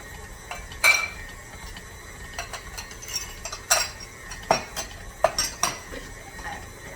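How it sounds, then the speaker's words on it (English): Cinnamon crumb coffee cake batter spread into a baking pan with a utensil, faint scattered scrapes and light metallic clinks against the pan in a quiet kitchen. "And then we're going to spread this into the pan."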